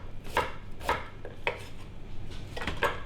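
Knife roughly chopping fresh coriander roots on a board in a kitchen, about six sharp, evenly spaced cuts with a light clack on each stroke and no talk.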